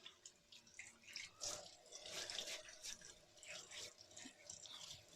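Water splashes and trickles from a running tap into a sink while whiskers are wetted before a wet shave. The soft, irregular splashing continues throughout and stays fairly quiet and close.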